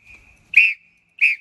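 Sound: whistle blown loudly and repeatedly

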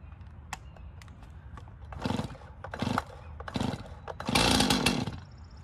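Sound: chainsaw cutting cherry wood

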